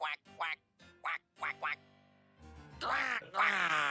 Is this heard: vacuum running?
no